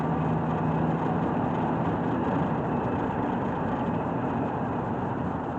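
A 2004 Toyota Tacoma cruises at about 60 mph, with a steady, continuous drone of engine and road noise that stays even and loud throughout, and no one talks.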